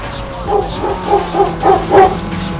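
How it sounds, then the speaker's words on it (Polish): A pet dog barks during a home gaming session playing Need for Speed: Underground 2, giving about five loud, evenly spaced woofs close by over a low background hum. "tradycyjnie mój pies oczywiście musiał się odezwać"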